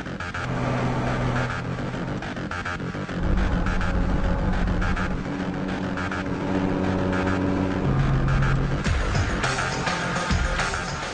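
An all-terrain vehicle grinds up a rough, bumpy snow and gravel mountain trail, its engine droning loudly and steadily with shifting pitch and rattling throughout, no speech.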